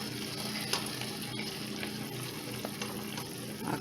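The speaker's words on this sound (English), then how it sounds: "Give it a good stir." A pineapple cherry glaze for ham sizzles steadily in a pan over low heat while being stirred, with a continuous close frying hiss and faint scraping, no talking.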